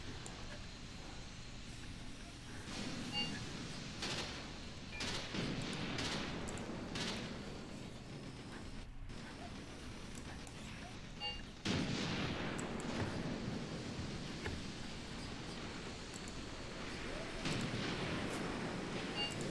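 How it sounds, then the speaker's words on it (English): Mortar and gunfire in the war video game Graviteam Tactics, with dull booms and distant shots over a steady, loud rumble of battle and engines that runs continuously. "will pop a mortar up here and start firing"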